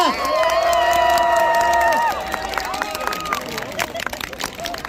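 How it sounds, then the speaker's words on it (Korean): Crowd at a political campaign visit in Pyeongtaek applauding and cheering a welcome, with shouts and cheers rising over scattered clapping that thins out midway, voices and babble mixed in. "뜨거운 환영의 박수를 부탁드리겠습니다"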